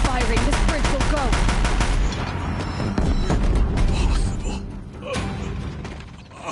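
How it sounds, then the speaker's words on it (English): Deathbringer machines in Horizon Zero Dawn fire a dense, continuous barrage of loud mechanical gunfire with metallic creaks, easing off partway and rumbling on beneath a voice. "If the Deathbringers keep firing, this bridge will go."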